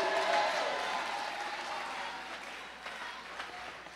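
A church congregation at a revival service applauds and cheers, a faint, distant crowd clapping that gradually fades.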